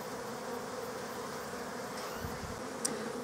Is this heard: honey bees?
yes